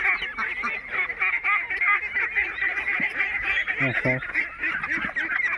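Constant chattering of many domestic and white Pekin ducklings and ducks, high-pitched calls overlapping nonstop up close, with a few lower honks mixed in.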